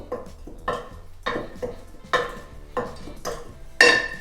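Dry ingredients for vegan Linzer cookies get mixed in a bowl in about seven evenly spaced scraping strokes, each with a light clink of a utensil against the bowl. The strokes are close and have no talking over them.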